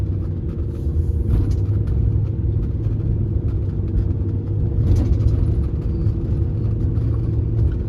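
A vehicle pulls up to a residential fence-replacement job site in Inwood Forest, Houston, Texas, giving a steady, loud, close low rumble of engine and road noise with no talking.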